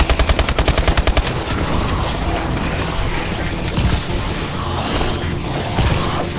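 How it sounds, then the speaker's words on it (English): Automatic turrets in the Exo Zombies video game firing rapid, evenly spaced bursts, followed by a dense, loud wash of continuous gunfire and mechanical clatter that fills the whole stretch. "I love these things. You just set them up and they shoot all by themselves."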